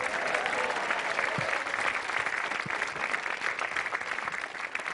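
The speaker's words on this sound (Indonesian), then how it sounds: "terima kasih sekali lagi tepuk tangan untuk yang jelek" Comedy club audience applauding at a stand-up comedy show: dense, steady clapping from a crowd that holds at an even level for several seconds.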